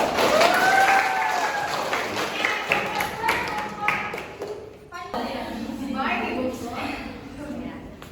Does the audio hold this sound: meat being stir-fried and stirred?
no